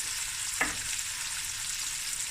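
Cumin and fennel seeds sizzle in a pan as a steady, soft frying hiss, with one brief clack partway through, like a stir or a tap against the pan.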